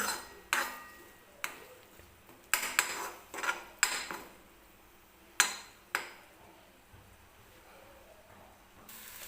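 Eggs stirred with turmeric in a pan for Maharashtrian egg curry, bhurji-style: a series of sharp metallic clinks and scrapes of a spoon against the pan, irregularly spaced, close and clear with no talk.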